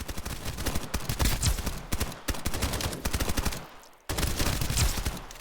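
Rapid automatic gunfire in Escape From Duckov, loud dense bursts of closely spaced shots with brief gaps, one short pause before firing resumes, with no talk.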